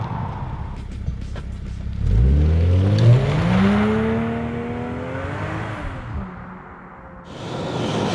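A BMW 540i xDrive Touring pulls away, its engine note rising through the gears, with smooth climbing revs and shifts, then settling into a steady cruising whir inside the car.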